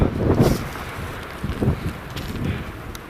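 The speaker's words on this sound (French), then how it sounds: "Je sais pas si vous m'entendez bien avec le vent." Gusty wind on a mountain summit at 2,400 metres buffets the microphone in loud, rumbling bursts that swell and fade, with no voices.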